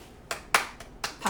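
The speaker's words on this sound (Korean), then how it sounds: "박수 쳐야겠어" Hands clap five times in a quick, slightly uneven burst, close and crisp, with no voice over them.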